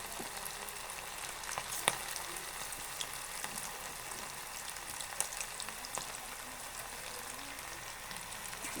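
Chicken pakora, spiced chicken pieces, frying steadily in hot oil with a dense, continuous crackling sizzle and occasional sharper pops, heard close and alone.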